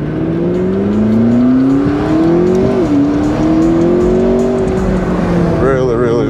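A McLaren sports car engine drives along loud and close at a cars and coffee event, its droning pitch climbing and dipping as it speeds up and eases off.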